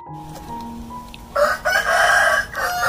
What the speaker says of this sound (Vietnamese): Đó, gà này gà đá nè cả nhà.